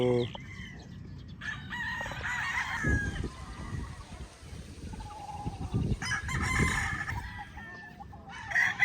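Several broodcock roosters of Dinkfair bloodline, four brothers kept on a farm, crow loudly and repeatedly at close range, with scattered clucking and other fowl sounds in between.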